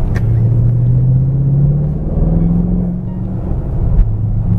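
A Bentley Continental GT twin-turbo V8 engine growls as it accelerates, a deep loud rumble rising in pitch, steady and close with no talking.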